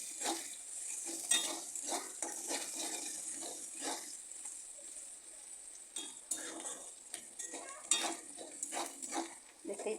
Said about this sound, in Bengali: একটা শুকনো লঙ্কা দিয়ে দেব, খুব ভালো করে এটাকে ভেজে নেব। পেঁয়াজগুলো একদম বাদামি কালার করে ভেজে নেব।